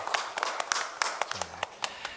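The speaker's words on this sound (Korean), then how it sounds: "하나님께 영광의 박수를 드리겠습니다." Applause from a church congregation during a Sunday sermon, brief scattered claps sounding sparse and fairly quiet, with a low hum underneath.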